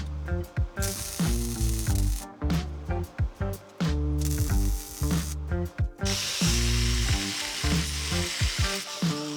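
A nut is welded onto the top of a kingpin on a Dana 60 axle, giving loud, close bursts of crackling, buzzing sizzle that start and stop repeatedly with short gaps between them.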